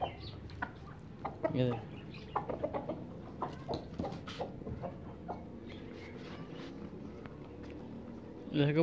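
Farmyard chickens cluck and chatter steadily at close range while being fed chopped grass, with pigeons nearby, and a person talks over the birds throughout.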